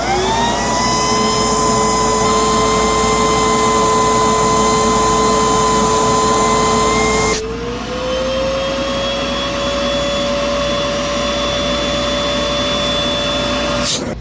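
A Sandia Super Raven backpack blower runs fast and loud through a hose, a steady droning whine that shifts to a slightly lower, altered tone partway through and keeps going to the end.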